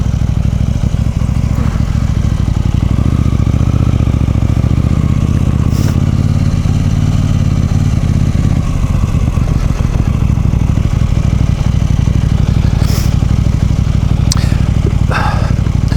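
A KTM 790 motorcycle engine runs loud and steady at close range, a dense low drone with occasional clanks and scrapes on top.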